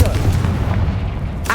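A Confringo fire spell explodes in Hogwarts Legacy, a heavy, sustained booming rumble that fills the whole moment, loud and close, with a brighter burst flaring at the very end.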